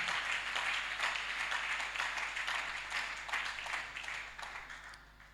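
A church congregation applauds together in a sustained wash of dense, even clapping that slowly fades over several seconds, heard at a moderate distance.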